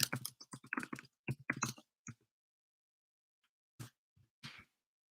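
Fingers type on a computer keyboard in quick close bursts of clicking keystrokes, then pause before a couple of isolated taps, with no talking.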